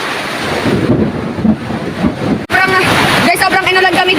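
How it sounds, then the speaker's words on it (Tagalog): Heavy rain and thunder pound on a farm plot in a loud, rough roar, with a sudden break partway through. Voices shout over the storm. "Sobrang inulan kami dito."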